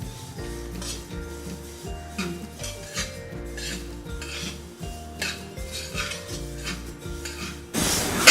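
Sesame seeds dry-roasting in a kadhai while a metal spoon scrapes and clinks against the pan in a steady back-and-forth rhythm, close and fairly loud, with no talking.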